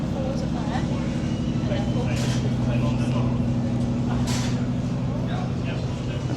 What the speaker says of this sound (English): Supervan 3 went for a V6 Cosworth.